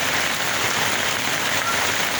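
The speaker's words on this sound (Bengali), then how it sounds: "দেখেন অনেক জোরে বৃষ্টি হচ্ছে।" Heavy downpour over Dhaka, a dense, steady roar of rain hitting surfaces throughout, loud and close with no talking.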